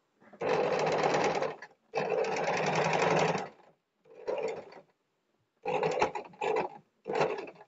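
Sewing machine stitching piping onto a boat neck blouse, running in five close, loud bursts of steady mechanical whirring, the first two long and the later ones short, split by brief pauses.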